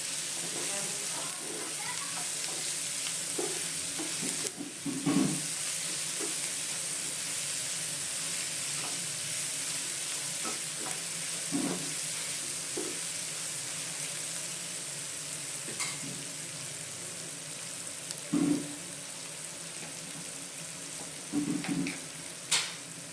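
Lemon rice ingredients fry in a pan after pink salt goes in, giving a steady close sizzle throughout with a few brief stirring clatters and knocks of a spoon against the pan.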